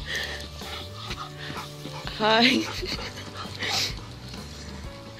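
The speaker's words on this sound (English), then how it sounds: "I'm recording all the dogs." Dogs at Vancouver Lake panting and whimpering, with a rising whine in the middle, over outdoor background noise and people talking.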